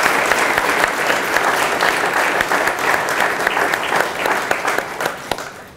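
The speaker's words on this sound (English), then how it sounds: "So please give all of yourselves a round of applause for the great work that you do for kids every day" Steady, dense applause from an audience at a community partnership breakfast, loud and sustained for several seconds with no voices over it.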